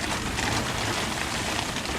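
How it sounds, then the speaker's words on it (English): Rain pours steadily during a squall, a dense, continuous hiss with no break for the whole stretch and no voices. "Oh, here comes the rain."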